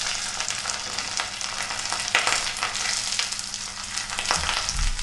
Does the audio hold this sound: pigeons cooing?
no